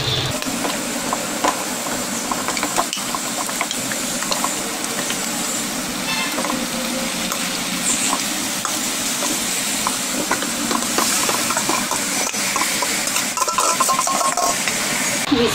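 Marinated chicken sizzles steadily in hot oil in a pan for a chicken masala gravy, a loud continuous frying hiss with occasional stirring clinks and scrapes, no talking.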